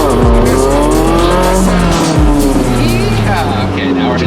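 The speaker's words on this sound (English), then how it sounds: "now we're hitting the brakes hard" A heavily modified Toyota 4Runner brakes hard, its loud engine drone falling sharply in pitch while the tires squeal, all close and intense with brief dips as the vehicle slows.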